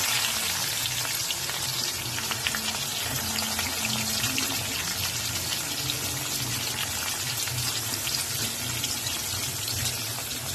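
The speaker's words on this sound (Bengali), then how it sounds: "এবার পেঁয়াজটা দিয়ে কিছুক্ষণ ভেজে নেবো" Onions fry in oil in a kadai, giving a steady close sizzle and soft crackle that runs evenly throughout without talk.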